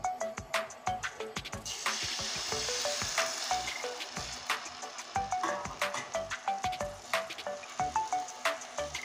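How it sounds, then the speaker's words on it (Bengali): Beaten egg mixture fries in a pan with a steady, close sizzle, punctuated by rhythmic tapping and scraping as it is stirred and spread. "এবার আবার আমি এই ডিমের ঘোলটা দিয়ে দিচ্ছি।"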